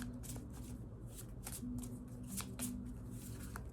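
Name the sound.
shuffling a deck of tarot cards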